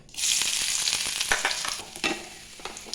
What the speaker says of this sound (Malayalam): കുറച്ച് വെളിച്ചെണ്ണ ഒഴിച്ച് കൊടുക്കട്ടെ. ഇനി ഇഞ്ചി വെളുത്തുള്ളി ഇട്ട് കൊടുക്കട്ടെ.